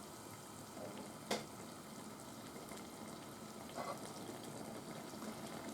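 Hijiki seaweed stewing in a pan as its water cooks off, giving a soft, steady sizzle and bubbling hiss, faint and continuous, with a couple of small clinks of a utensil.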